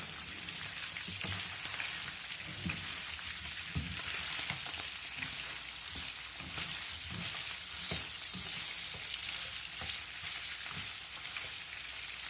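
Pork ribs fry in a pan with a steady, dense sizzle and crackle throughout, close and continuous, with scattered sharper pops and no talking.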